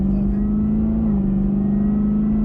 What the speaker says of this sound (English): There's some Supercharger whine for you guys.